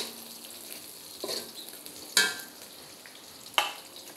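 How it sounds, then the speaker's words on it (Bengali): Raisins frying with onions in a pan for a cauliflower and carrot biryani, giving a soft steady sizzle broken by three sharp stirring scrapes, close and fairly quiet, with no talk. "তারপর দিয়ে দিচ্ছি কিশমিশ, বেশি পেঁয়াজ পোড়াবেন না"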